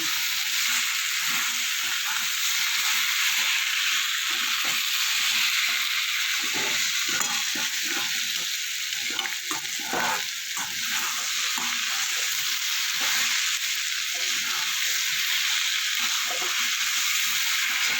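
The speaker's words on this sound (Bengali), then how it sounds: "এবার দেবো ভেজে রাখা আলু দিয়ে আবারও ভালো করে কষিয়ে নেব" Spiced cabbage and pre-fried potatoes sizzle and fry steadily in a pan for a vegetarian cabbage ghonto, with a constant hiss under frequent scraping stirs, close and fairly loud throughout, with no talking.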